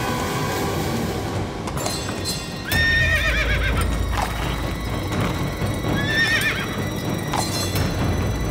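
A horse neighs loudly several times in an outdoor setting, the whinnies rising and trailing off over steady background noise, with no talking.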